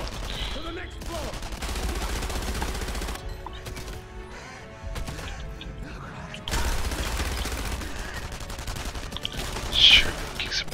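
Gunfire in the video game Enemy Front, with bursts and shots mixed into game sound effects and music throughout, a sharp louder crack near the end; a voice talks at points.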